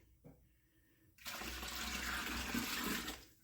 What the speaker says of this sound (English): Just trying to rinse this bowl out as I add this in here to make sure I get every little bit of our strawberry out.